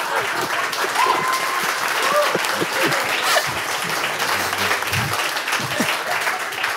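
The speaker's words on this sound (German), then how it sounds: "Dann großen Applaus trotzdem für den Gewinner dieses Spiels" A studio audience at a comedy panel game show gives sustained applause that stays steady throughout, with scattered voices mixed into the clapping.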